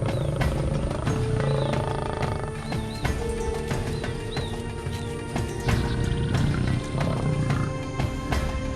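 A lion roars in the African wild, deep rumbling bursts under a dense layer of animal calls and background noise, with faint higher squeals scattered through.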